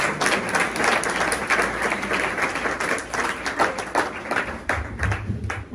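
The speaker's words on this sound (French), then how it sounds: "Ah, Muriel, t'applaudis-toi maintenant." Congregation applause at a church gathering: dense, sustained clapping from a sizeable audience, loud and continuous for several seconds, tapering slightly near the end.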